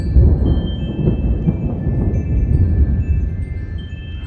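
Loud, continuous rumbling thunder from a lightning storm directly overhead rolls on without a break, deep and heavy throughout.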